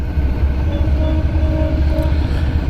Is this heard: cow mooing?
no